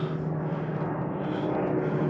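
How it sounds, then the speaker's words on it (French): An airplane passes overhead in the countryside, a steady broad engine roar with a low hum, loud and continuous throughout with no talking. "Un avion qui passe."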